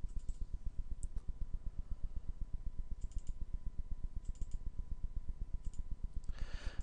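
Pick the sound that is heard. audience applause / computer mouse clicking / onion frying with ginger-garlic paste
computer mouse clicking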